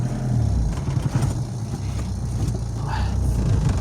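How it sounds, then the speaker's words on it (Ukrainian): A ZAZ Slavuta car with a blown head gasket, its engine revved while stationary, a steady mid-pitched motor drone rising and holding under background noise, with no clear speech. "Оля газує."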